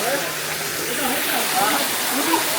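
Water pours steadily from a poolside shower into a pool, a continuous splashing rush filling the clip at close range, with children and adults talking over it.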